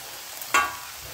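Okra palya being stirred in a frying pan with chopped coriander and grated coconut: a single brief scrape of the spatula rises over a soft, steady background sizzle, close and alone.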